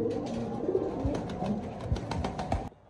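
An Andalusian-coloured female Beauty Homer pigeon coos in a low, throaty burst, close to the mic, against a busy background with several soft knocks and clicks.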